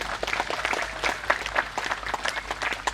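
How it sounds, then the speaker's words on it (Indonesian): An audience applauding during an Islamic sermon gathering, a lively patter of many hands clapping at moderate volume, irregular and somewhat distant-sounding, sustained across the whole moment without speech. "Tepuk tangan untuk mereka semuanya."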